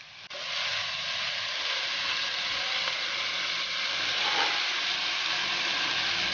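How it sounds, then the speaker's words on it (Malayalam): Onions frying in a pan for Kerala chicken curry over a raised flame, a loud, steady sizzle and hiss with faint stirring scrapes running throughout, no talking. "ഫ്ലെയിം ഒന്ന് കൂട്ടി ഉള്ളി നന്നായി ഒന്ന് ഇളക്കി കൊടുക്കുക."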